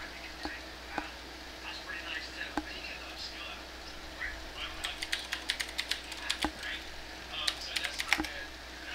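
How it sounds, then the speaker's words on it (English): Quick runs of typing on a mechanical computer keyboard: sharp, close clicks in uneven bursts that grow denser toward the end, over a faint room hum with soft speech-like murmur in the background. "Sorry if I'm hearing the typing."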